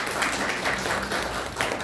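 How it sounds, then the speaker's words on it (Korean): Congregation in a Korean church class applauding to welcome three new members: dense, steady clapping from a room of people, moderately close, lasting a couple of seconds. "네, 박수로 환영합니다."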